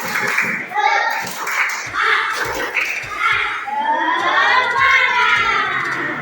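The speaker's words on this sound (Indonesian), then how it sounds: "mari kita tepuk tangan dulu" Schoolchildren in an Indonesian elementary classroom clap together in bursts while excited kids shout and chatter. A teacher's voice is also heard over the lively clapping.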